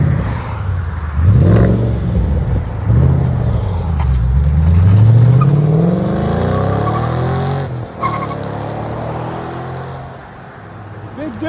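A 2014 Ford Mustang GT 5.0L V8 with its exhaust valves open and cut-out mufflers, revving hard in loud rising and falling sweeps, close up, with a deep rumble between revs.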